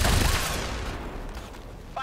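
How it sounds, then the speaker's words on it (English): A gunshot fired in the video game XCOM 2: a loud burst at the start with a heavy low-end boom that decays into a rumbling tail, followed by a brief sharp sound near the end. "Fires a shot."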